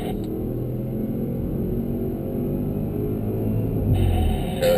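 Audi S7 circling Sonoma Raceway gives a steady, loud in-car engine drone under acceleration, holding level throughout with a slight swell near the end.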